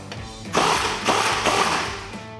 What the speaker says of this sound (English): We're gonna grab a 24mm socket and remove this nut.